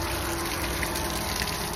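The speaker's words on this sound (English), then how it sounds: "a release of all the water in your hot water tank" Water gushes out of an RV hot water tank through its open drain valve in a steady, continuous rush that stays at an even level for a short stretch. No one speaks.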